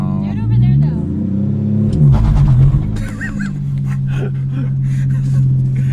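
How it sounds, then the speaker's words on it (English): A single-turbo BMW E92 335i does a burnout in reverse, engine revving hard with a rough, roaring rumble and tire noise, while voices talk and exclaim over it. "I'll do a burnout in reverse."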